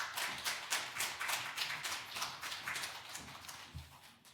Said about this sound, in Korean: 나오실 때 박수로 한번 환영하겠습니다.